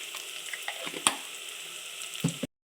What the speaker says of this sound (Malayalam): ചെറിയ പീസ് ഇഞ്ചി അരിഞ്ഞതും ഇട്ട് കൊടുത്തിട്ടുണ്ട് ഇങ്ങനെ ഒന്ന് വഴണ്ടി വരുമ്പോഴത്തേന്